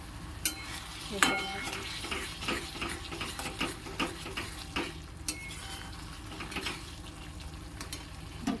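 Spices frying in a pan while being stirred, with a continuous sizzle under repeated scraping strokes and light clinks of the spoon against the pan, close and steady throughout.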